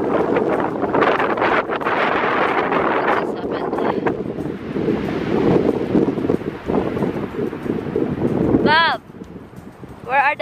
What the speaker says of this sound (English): Oh, very windy.